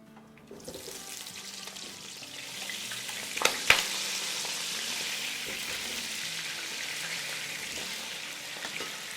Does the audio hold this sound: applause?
no